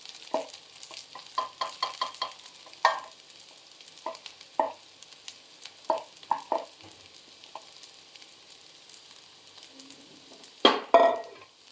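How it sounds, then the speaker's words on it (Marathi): A spoon stirs poha (flattened rice) frying in a pan, giving soft scraping strokes in irregular bursts over a faint sizzle, with a louder clatter of stirring near the end and no voices. "आता आपण याला चांगले ढवळून घेऊ."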